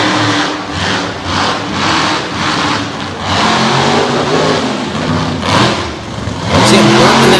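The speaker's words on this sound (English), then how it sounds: "See him working that throttle" A monster truck engine roars and revs hard as it climbs a ramp over a bus at a dirt-track show in Brookville, Pennsylvania, the throttle pulsing in rhythmic surges, loud and continuous with crowd noise mixed in.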